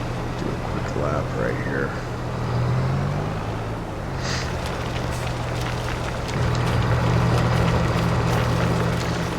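A truck engine in Farming Simulator 22 runs with a steady low drone that rises and falls in pitch as it revs, fairly close, while someone talks over it.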